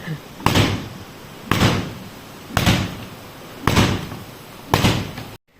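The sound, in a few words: wooden cot being banged to knock out dust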